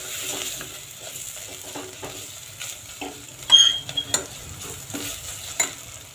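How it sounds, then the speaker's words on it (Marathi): A green paste of coconut, coriander, ginger and garlic is stir-fried over a low gas flame, sizzling quietly. A spatula scrapes and taps against the pan, with the clatter bunching together midway through. "जे ग्रीन पेस्ट आपण खोबरं, कोथिंबीर, अद्रक, लसूणची टाकली आहे ती छान बारीक गॅसवर आपल्याला परतवून घ्यायची आहे"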